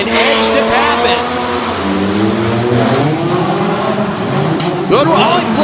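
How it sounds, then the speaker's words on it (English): Off-road Jeep racing at a Tuff Truck championship, engine revving loudly and continuously with shifting pitch, tire noise mixed in, and a commentator talking over the engine throughout. "he blows the right front tire, almost puts the Jeep on its side"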